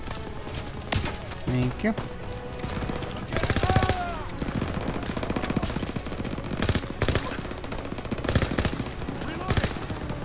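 Game gunfire in a Call of Duty WWII campaign firefight: rapid bursts of automatic weapon fire and scattered shots crackle continuously around the player, with brief voices in the mix.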